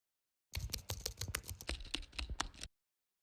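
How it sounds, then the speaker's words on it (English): Rapid keyboard typing sound effect, a quick burst of crisp key clicks lasting about two seconds, close and isolated with silence before and after. "the layer with the keyboard typing sound effect below"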